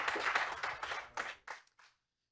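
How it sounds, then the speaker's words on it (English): A church congregation claps in praise during a sermon, a short burst of scattered hands that thins out into a few final claps and then silence. "Come on, give Him a clap of praise."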